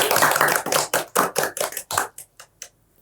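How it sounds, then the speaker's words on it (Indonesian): A group claps hands in a lively rhythmic cheer at an archery gathering, starting as a dense burst of applause and then settling into a string of separate, evenly spaced claps that fade out near the end. "Oh, tepuk tangan"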